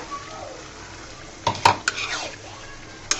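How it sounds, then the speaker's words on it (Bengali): Cut eggplant is stirred in a pan with a metal utensil, a few sharp clanks and scrapes against the pan near the middle and again at the end over a quiet frying background. "বেগুনগুলা দিয়ে আমি সুন্দর করে নেড়ে চেড়ে দিব"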